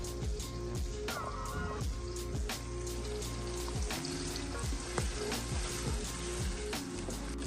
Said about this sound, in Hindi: हल्का सा ये गर्म होगा तो इसके अंदर मैं प्याज डाल दूंगी